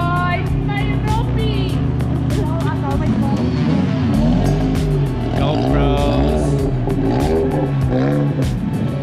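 A diesel car engine revs loudly and continuously, its pitch rising and falling, while several people talk and shout excitedly close by.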